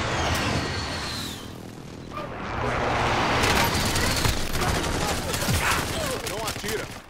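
M4 rifle fire in a video game match, with rapid bursts and scattered shots around, near and loud, and voices talking over the action.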